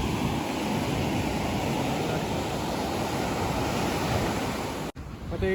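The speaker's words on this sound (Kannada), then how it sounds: "ಸಮುದ್ರದ ಅಲೆಗಳೆಲ್ಲ ಜಾಸ್ತಿ ಆಗ್ತದೆ" Rough sea surf breaking on a beach, a continuous loud roar of waves with wind noise buffeting the microphone, cutting off abruptly near the end.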